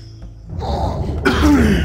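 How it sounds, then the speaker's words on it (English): A man coughing and clearing his throat, a few harsh close bursts that rise in loudness toward the end, with no talk over them. "I'm having problem clearing my throat today."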